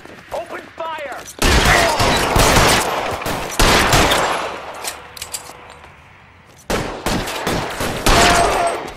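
Gunfire in the video game L.A. Noire, loud bursts of rapid shots in several clusters separated by brief lulls, with a shouted voice near the start.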